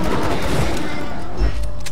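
Rapid gunfire from a fast-shooting gun in Borderlands 2, a dense burst of loud shots fired in quick succession over a couple of seconds with no talking.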